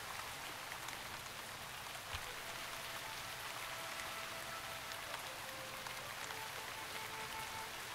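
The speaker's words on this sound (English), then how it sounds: "Oh, it's raining too, yes." Steady rain falls in the Shroud of the Avatar game world, a soft continuous hiss with scattered droplet ticks, faint and even throughout with no voices.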